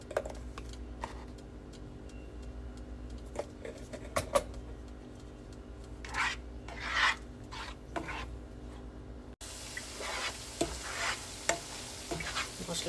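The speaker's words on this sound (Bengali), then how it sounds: "মশলাটা একদম ভালো মতো কষাচ্ছি।" Ground spices with garam masala and cumin sautéing in a pan, a low sizzle broken by sharp clicks and scrapes of stirring, with a brighter, hissier stretch near the end.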